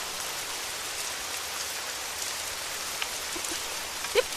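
Rain falls in a steady, even patter, a continuous soft wash of drops with a few slightly sharper drips near the end.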